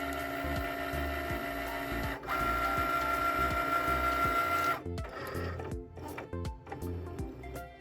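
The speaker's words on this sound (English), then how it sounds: "this is where the machine is reading the registration marks. Once it reads that, then it's going to cut the image out." A Cricut cutting machine scans printed registration marks before a print-then-cut job, giving a steady mechanical whir with a rising tone, then stop-start motor movements and soft clicks, fairly close.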